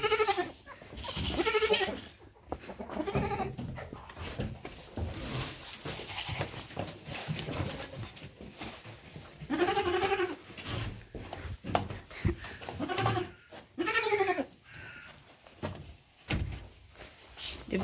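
A small goat bleats again and again at uneven intervals, close by in a shed, with a few wooden knocks and some low human voices between the calls.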